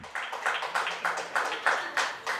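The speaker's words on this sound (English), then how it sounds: "Can we get a round of applause for Dr. Rachel Huchtfeldt or Lauren?" An audience at a creativity and arts dialogue event claps in a steady, rhythmic run of sharp, close bursts lasting a couple of seconds.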